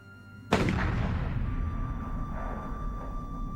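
A single musket gunshot bursts sharply after a quiet moment, followed by a long rumbling echo that slowly decays, with no talk.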